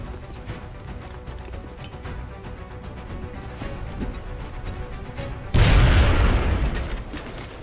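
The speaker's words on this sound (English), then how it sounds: "Now toss your grenade at the enemy in front of you." Grenade explosion in XCOM Enemy Within: after a busy stretch of low game ambience and clicks, a single loud, sharp blast bursts in and trails off into a decaying rumble.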